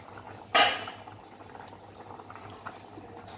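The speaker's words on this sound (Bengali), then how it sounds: "এটা একটু ফুটুক, তারপর ডিমের আমলেটটা দিয়ে দেবো।" Curry bubbles quietly at a low simmer in a pot before an egg omelette goes in, with a brief metallic clatter early on and then soft, continuous boiling.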